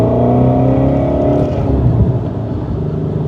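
Deep, close exhaust roar from a Ford Mustang Shelby GT350 V8 as it revs, pitch sliding downward after an initial high hold, then settling into a lower throb, loud and without speech.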